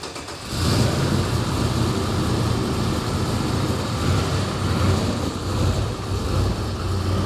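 A car engine runs steadily and loudly, a deep rumbling drone that swells slightly as it revs, with no talking over it.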